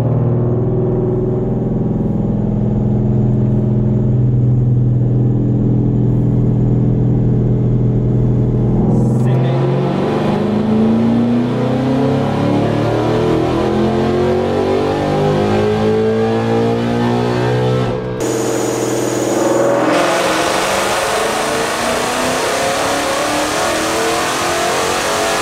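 Race car engine on a dyno during its first pull, fitted with many new untested parts: a loud, sustained rev that climbs through the gears with two sharp drops and shifts, roaring steadily near the mic with no talk.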